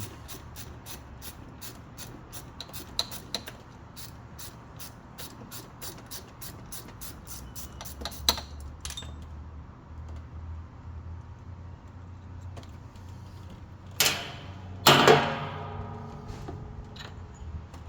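A ratchet removes the last bolt on a Ford GT500 supercharger pulley: quick, evenly spaced metallic clicks come in runs for several seconds, then pause, followed by a louder, denser burst of ratcheting near the end.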